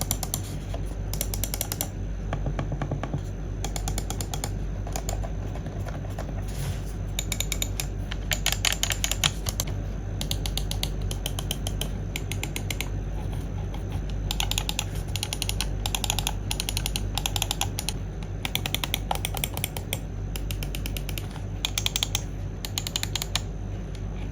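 Rapid, dense clicking from GamePro Asgard-series gaming mice continues for the whole stretch, crisp and close, in uneven bursts with brief pauses and no talking.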